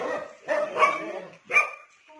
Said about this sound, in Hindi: डॉगीज बहुत ज्यादा हमारे डॉगी को देख के भौंक रहे हैं